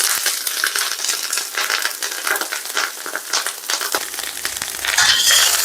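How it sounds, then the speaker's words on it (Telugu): Cooked rice goes into a hot pan with loose ginger-garlic paste for street-style egg fried rice, making a continuous loud sizzle and crackle with scraping stir-fry noise and no talking. "ఇప్పుడు రైస్ వేసేసుకుందాం"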